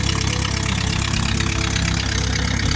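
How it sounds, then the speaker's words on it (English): A tractor engine idles steadily with a low, even rumble and chugging texture, close by and constant throughout. "Got the tractor running, no problem."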